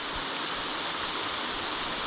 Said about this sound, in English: you can see where the water's like getting separated into 3 different fingers coming down, and then it's spreading right across the rocks when it's coming down